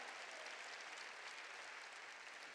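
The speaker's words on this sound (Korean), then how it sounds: "깨달은 사람만 박수 치라고요." Steady applause from a church congregation fills the space, a dense, even wash of many hands clapping with no voices over it.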